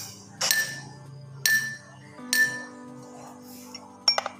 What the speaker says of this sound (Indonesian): Kita akan mencobanya dengan mengetukkan sendok pada gelas.